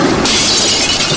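Glass shatters loudly in a Poppy Playtime Chapter 3 animation during a storm: one sudden crash bursts into a sustained, bright spray of breaking shards, close and alone.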